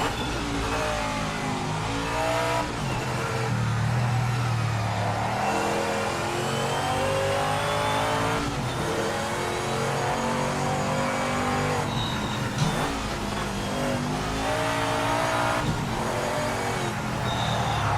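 A race car engine in the video game Project Motor Racing revs and shifts through a lap, the note repeatedly climbing and dropping with each gear change, loud and continuous with a few sharp downshifts.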